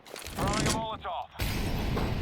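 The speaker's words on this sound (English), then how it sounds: "Throwing a Molotov" A Molotov cocktail thrown in Counter-Strike 2, giving a short crack and glassy shatter amid gunfire and game noise, with someone talking over it.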